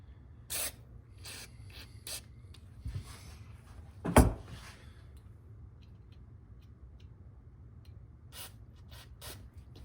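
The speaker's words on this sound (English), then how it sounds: "I'm going to spray it with some brake cleaner inside the line" Short bursts of aerosol brake cleaner spraying into a BMW E30 brake hard line, close by, with a sharp hiss around the middle, amid faint mechanical clicks and rubbing.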